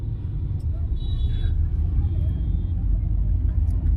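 Road traffic in Lucknow, India, rumbles steadily and close, with low engine drone, passing vehicles and a few faint higher tones like horns or brakes, under occasional talk.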